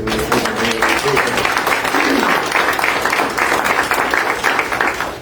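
A round of applause from the crowd at a homeowners' annual meeting, steady and fairly loud with many people clapping together, and a speaking voice heard briefly at the start.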